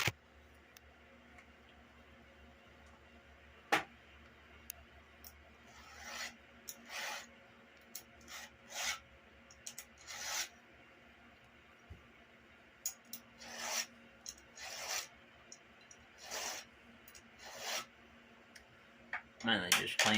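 A file sharpening the chain of a Stihl MS170 chainsaw, a few strokes per tooth: short, scattered scraping swipes, some in quick groups, against a quiet background with a low steady hum.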